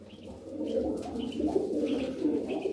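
Pigeons coo in a steady, overlapping murmur at a bird-selling spot in Darıca, Turkey, soft low calls repeating throughout with faint chirps above, fairly close and continuous.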